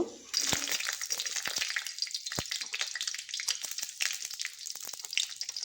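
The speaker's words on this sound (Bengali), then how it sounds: "একদম কটকটা করে ভেজে নেব শুকনো লঙ্কাটা।" Dried red chillies fry in oil in a pan with a busy crackling sizzle, full of dense pops and spits that carry on throughout.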